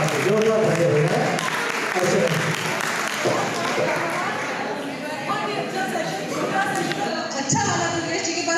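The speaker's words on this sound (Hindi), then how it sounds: "जोरदार तालियां हैं।" A theatre audience applauds at a media festival in Ratlam, the clapping continuing under a voice and fading somewhat toward the end.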